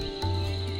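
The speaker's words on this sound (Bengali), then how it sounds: "আর সেই একটা ঝিঝি পোকার মতন ডাক, যেটা পাহাড়ে ডাক হয়।" A cricket-like insect in the Kurseong hills gives a single brief chirp against a quiet, steady ambient hum, faint and with no voices.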